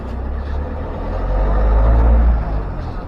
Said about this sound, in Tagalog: Tunog diesel yung kotse.